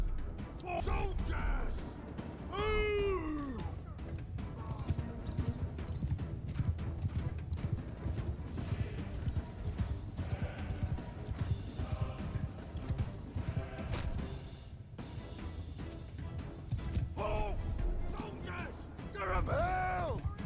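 Horse archers' hoofbeats thunder continuously in the Mount & Blade 2: Bannerlord battle, a dense clip-clop under game music and battle noise, with occasional whinnies and a voice talking over it.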